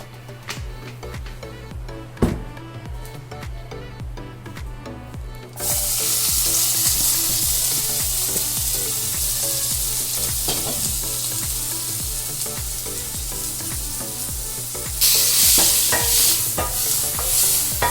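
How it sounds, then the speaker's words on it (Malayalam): Onions sauté in hot oil in a pan for a crab roast curry, with a soft background hum at first. Then a loud steady sizzle breaks in and holds, with light stirring scrapes and a brief louder surge near the end. "ഇതിനകത്ത് വീണ്ടും കുറച്ച് എണ്ണയും കൂടെ ഒഴിച്ചിട്ട് നമുക്ക് ഉള്ളി വഴറ്റാം."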